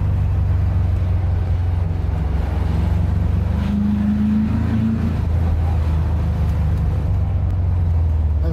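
An old car drives in second gear and accelerates, its engine a loud, steady, close drone with a rising tone midway through the pull.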